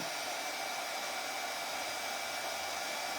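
A hair dryer blows continuously at close range, drying a corrugated cardboard chick craft with a steady, even roar and no pauses.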